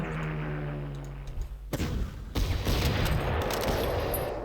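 Strafing gunfire in the WWII strategy game Panzer Corps: a dense burst of rapid shots and low booms over a steady game soundtrack, loud and close, with no one speaking.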